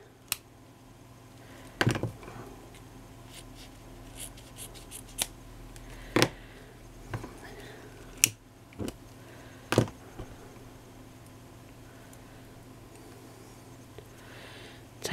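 Scissors snipping silk flower material, a handful of sharp, separate close-up cuts spaced a second or two apart against a quiet background.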